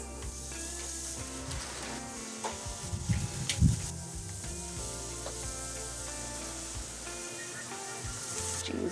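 Marinated Korean kalbi short ribs sizzle on a hot grill: a steady, close hiss and crackle of searing meat, with a brief clatter of handling partway through and no voices.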